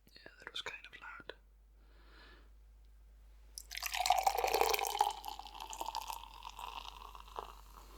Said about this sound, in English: so I actually wanted to pour you a beer